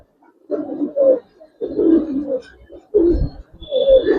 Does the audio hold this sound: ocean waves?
no